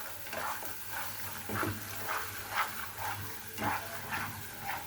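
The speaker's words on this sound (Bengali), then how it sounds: "মশলাটাকে আমি ভালোভাবে একটু কষিয়ে নিচ্ছি।" Bengali-style spice paste with Kashmiri chili powder fries in oil in a pan while a spoon stirs it, giving a soft steady sizzle with rhythmic scraping strokes, close and fairly quiet.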